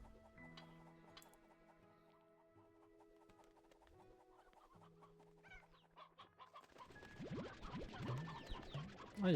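Chickens cluck and squawk in a growing chorus over a faint melodic musical backdrop in the game Slime Rancher 2, becoming louder and busier toward the end.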